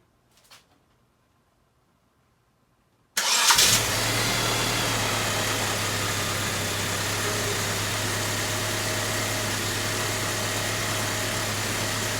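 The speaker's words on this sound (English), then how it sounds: "we're ready to test fire this car once again" A rebuilt 1988 Dodge Raider engine cranking and firing after a few quiet seconds, then settling into a steady, loud, close idle that runs to the end, with no talking.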